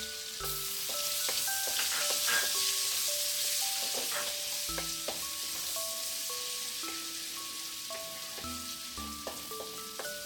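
Garlic sizzles and crackles steadily in a hot pan for shrimp Alfredo, with a dense, even frying hiss broken by occasional bright clinks and scrapes of a utensil stirring against the pan.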